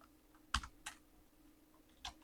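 A few sparse, close keystrokes on a computer keyboard while a spreadsheet formula is entered, two or three separate taps against a quiet background.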